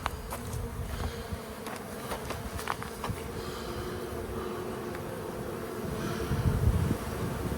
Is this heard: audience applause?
no